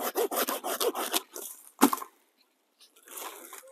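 A hand saw rasps through pine fatwood in quick, rhythmic back-and-forth strokes, then pauses briefly before a few more strokes resume.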